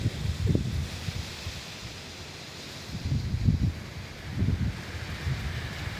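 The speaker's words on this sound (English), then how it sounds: "Look at how windy it is. It's moving the door." Strong gusts of wind push against a door, giving a steady low rumble that swells in several surges, nearby and with no voices.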